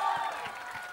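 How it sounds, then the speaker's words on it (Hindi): Brief burst of audience applause at a live Hindi-language show, a dense wash of many hands clapping at moderate loudness, fading slightly over one second. "तो तालियां."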